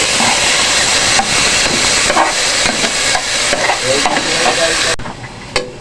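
Chopped onion, garlic and tomato saute in a hot pan with a loud, continuous sizzle and hiss, broken by stirring scrapes, until the frying noise drops back at the end.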